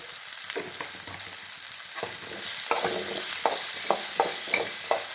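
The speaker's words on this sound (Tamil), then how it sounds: "நல்லா இதை வதக்கிடணும்" Bitter gourd fries with oil and turmeric in a pan, a steady close sizzle broken by repeated scraping stirs that grow more frequent in the second half.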